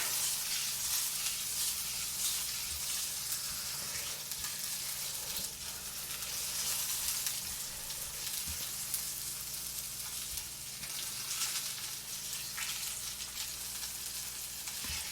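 A steak sears fatty side down in a skillet, rendering beef fat with a loud, continuous crackling sizzle that holds steady throughout.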